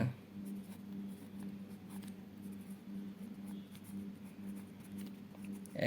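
A pen scratches steadily on paper while a class 8 math problem is worked out by hand. The soft, continuous scraping stays close and even throughout, with no speech.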